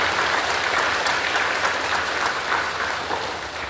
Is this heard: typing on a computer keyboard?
no